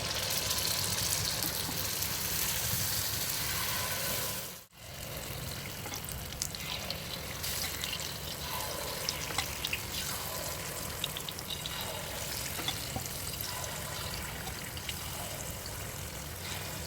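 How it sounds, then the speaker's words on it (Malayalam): Unniyappam batter hitting hot oil in a pan and frying, a steady close sizzle and bubbling hiss that runs throughout with one brief dropout near the start, no talk. "ചൂടായിട്ടുണ്ട്. ഉണ്ണിയപ്പം ഒഴിക്കാം."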